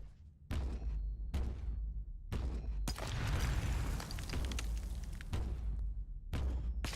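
Grav gun weapon fire in the game Warhammer 40K: Inquisitor – Martyr, a run of loud, booming low-heavy shots in separate bursts, one long sustained blast in the middle, with no talking.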